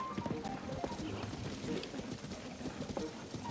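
Horse hooves clip-clop at a steady trot in Zelda: Tears of the Kingdom, close and fairly loud over a dense backdrop of game music and ambience.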